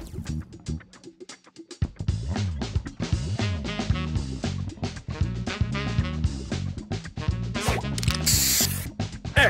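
Spray booster effect in the Match Masters puzzle game, a busy run of rapid chiming and clicking game sounds with a hissing spray burst near the end, loud and continuous.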